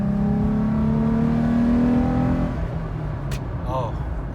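A Toyota 4Runner fitted with a TRD cold air intake revs up hard from a rumbling idle, the engine tone rising and then dropping off, heard up close from inside the vehicle.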